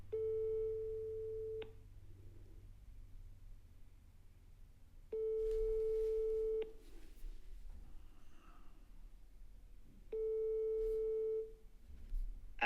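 Telephone ringback tone after dialing a French phone number: three long steady beeps, each about a second and a half, separated by roughly three-second gaps of quiet line hiss with low hum, heard clearly and alone.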